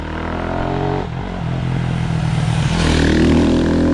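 A 2010 Husqvarna 510 SMR single-cylinder supermoto motorcycle accelerating, its engine droning loud and close, dipping briefly and then rising in pitch and volume as it pulls harder.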